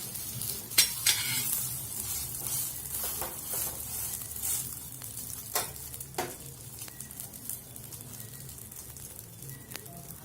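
A chicken shawarma wrap frying in oil, with a steady sizzle and faint scraping stir sounds from close by.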